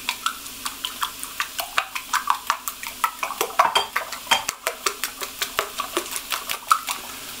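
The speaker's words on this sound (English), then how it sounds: "All I'm going to do is whisk up the eggs." A whisk beats eggs in a bowl with a fast, even clatter of metal on the bowl's sides, many rapid strokes in a row, close and fairly loud over faint kitchen noise.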